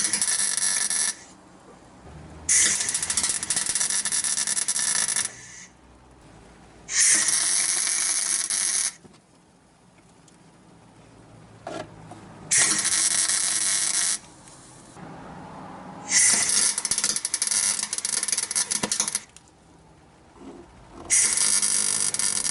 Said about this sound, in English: I'm just going to put a few tacks around the outside before we fully weld it up